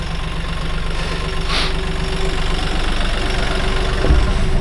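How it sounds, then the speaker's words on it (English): A small tractor engine idles steadily nearby, a loud, even mechanical chug with a low rumble that carries on unbroken throughout. "I love this little tractor"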